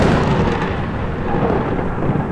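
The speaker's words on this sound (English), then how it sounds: "lightning is flashing intensely within the storm clouds" Continuous thunder from a storm with intense lightning rolls loudly and steadily, a deep broad rumble with no voices.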